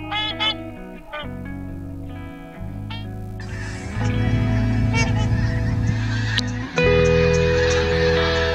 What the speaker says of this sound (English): Got a whole stack of snow geese out there.